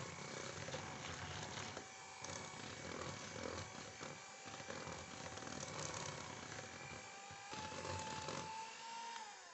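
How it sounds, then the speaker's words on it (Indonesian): An electric hand mixer runs at low speed while beating cake batter for Ferrero Rocher–style cookies, a steady faint whirring drone with small shifts in pitch as the beaters move through the bowl. "Selanjutnya kita kocok dengan kecepatan rendah saja hingga tercampur rata dan sedikit pucat."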